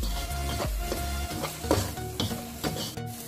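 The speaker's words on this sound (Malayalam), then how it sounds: "ഈ പച്ചമണമൊക്കെ ഒന്ന് മാറുന്നത് വരെ നമുക്കിതൊന്ന് ഇളക്കി കൊടുക്കാം" Masala for kothu chapathi being stirred in a pan, with a steady sizzle under repeated scraping strokes of the spoon, close and fairly loud throughout.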